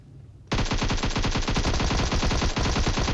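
Rapid automatic gunfire in PUBG Mobile bursts in after a short quiet start, a loud, dense stream of shots continuing with only a brief dip near the end.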